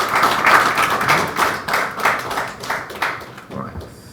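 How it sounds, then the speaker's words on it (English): Conference audience applauding a panel, a broad wash of clapping through most of the stretch with some voices mixed in, thinning out toward the end. "A round of applause for them."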